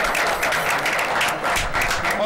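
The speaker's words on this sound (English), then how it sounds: "Can we have a round of applause for Gerard?" Studio audience applause at a late-night show, a steady, dense wash of clapping that fills the whole stretch at an even level with no talk.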